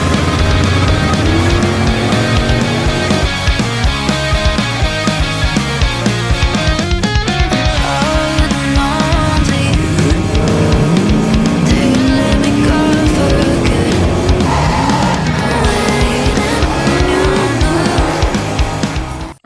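A NASCAR race car circles the track, its engine roaring loudly and continuously for the whole stretch, with the pitch rising and falling through the gears and bursts of tire squeal mixed in. No voices are heard.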